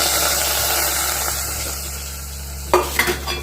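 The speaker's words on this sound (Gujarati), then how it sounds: "હવે આમાં આપણે કરવાનો છે વઘાર." Hot tempering, vaghar, is poured into cooked khichdi, giving a steady hiss and sizzle that builds into a sudden bright crackle near the end, followed by a few clinks of a spoon against the pot.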